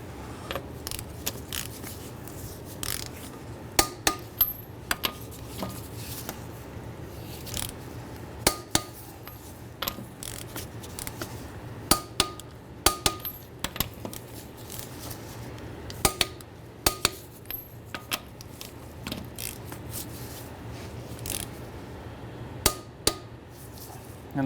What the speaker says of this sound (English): Now that our vehicle's on the ground, we're going to torque our lug nuts down to 80 foot-pounds.